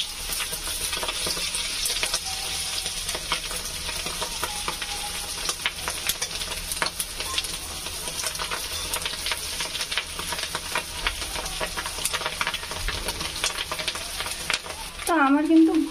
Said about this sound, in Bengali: ফটাফট করে বড় বড় করে বড়াগুলো ভেজে নিচ্ছি